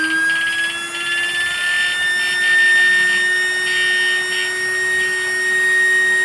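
An ATS 3500W electric fishing shocker for brackish water and estuaries, running on a 150-ampere battery pack, gives a steady electronic whine with a constant high tone and an even buzzing drone throughout, close and fairly loud, with no talking.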